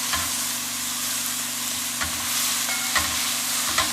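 Drumstick leaves fry in oil with a continuous crackling sizzle, broken by a few distinct stirring scrapes, close and steady throughout.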